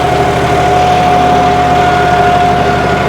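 A John Deere 5210 tractor engine pulls a cultivator through soil, giving a loud, steady diesel drone with a constant pitch and low throbbing firing rhythm, close and continuous, with no voices.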